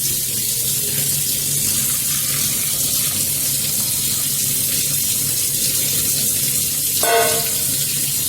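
Hot water is poured off lemons for pickle, a steady close rushing splash of draining water throughout, with a brief sharper gurgle near the end.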